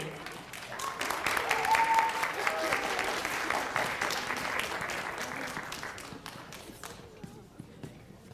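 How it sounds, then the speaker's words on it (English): An audience applauds 7th grade drama participants at a middle school literacy competition, the clapping swelling early, holding steady, then thinning out and fading toward the end, with some voices mixed in. "join us in a round of applause for our 7th grade drama participants"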